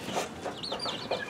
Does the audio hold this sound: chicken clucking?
yes